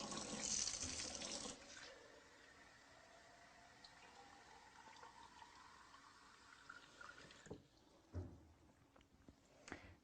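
Gravity-fed spring water pours from a faucet in a country house, a steady hiss of running water at the start that fades to a faint trickle, followed by quiet knocks and handling sounds.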